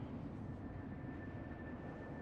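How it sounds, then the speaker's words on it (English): A shuttle arriving in Mass Effect 3 makes a steady, low engine drone like a hovering aircraft. It holds at an even level for about two seconds, with a thin constant whine above it. "Shuttle's arriving any minute."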